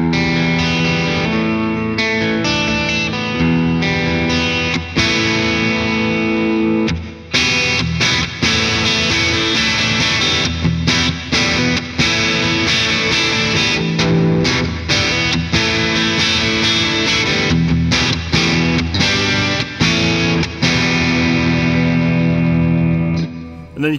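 An electric guitar through overdrive in the middle pickup position plays continuous chords and riffs, loud and sustained, with a driven, slightly chorused tone and no talking.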